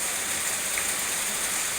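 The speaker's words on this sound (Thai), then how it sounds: "มื้อนี้ฝนตกอีกแล้ว" Steady rain falls outdoors in an even, continuous hiss with no break and no voices.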